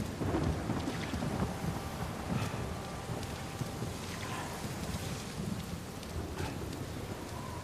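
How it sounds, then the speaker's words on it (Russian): A heavy tropical rainstorm in the video game Uncharted 4: a dense, steady roar of pouring rain with low rumbling thunder and wind, loud and continuous throughout. "И какой красивый ливень."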